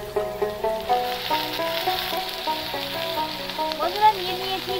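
Onion, ginger and garlic paste fries in a pan for a chicken skin curry, a soft sizzle sitting beneath prominent melodic background music.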